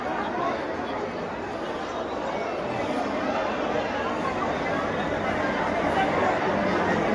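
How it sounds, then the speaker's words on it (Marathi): Dense crowd of devotees chattering at Tuljapur temple, a steady wash of many overlapping voices throughout, close and continuous with no distinct single speaker. "आणि गर्दी पहा किती."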